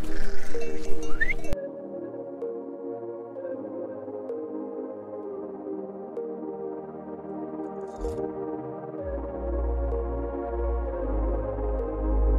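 Sheep bleat at a sheepfold, sustained layered cries heard fairly close, with a loud low mechanical throb rising near the end and no talking.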